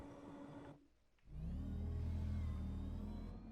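The Reaver Fighter aircraft in Planetside 2 spins up after a short lull, its engine settling into a loud, steady rumbling whir with a low hum beneath it, carrying on unbroken to the end.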